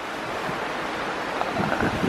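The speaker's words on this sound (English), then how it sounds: "look at the waves now" Ocean waves wash and surge beneath the jogging deck of a Disney Cruise Line ship on a day at sea, a continuous rushing roar heard from high up with buffeting wind noise over the microphone.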